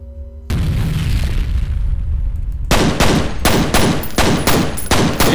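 In the first-person shooter F.E.A.R., a grenade bursts with a heavy boom, then rapid automatic gunfire rattles in loud, dense bursts, close and continuous.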